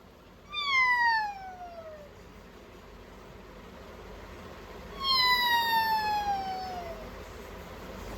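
Two long, drawn-out cat meows, each sliding downward in pitch, separated by a few seconds of quiet background hum.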